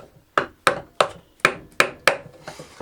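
Seven sharp wooden knocks from a hammer driving chair legs into a wooden seat in a steady rhythm, close and loud, with brief pauses between blows.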